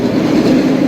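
An empty roller coaster train at Busch Gardens Tampa rumbles steadily along its track, a continuous loud low roar with faint rail clatter and no voices.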